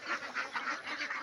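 Ducks on a small farm of about 500 birds quack in a steady rhythm of rapid, repeated calls, fairly close and continuous, with no talking.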